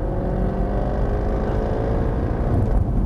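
A Jaguar F-type accelerates hard on a race track, its engine a loud, steady droning roar with sustained harmonic tones throughout, close and continuous with no talk over it.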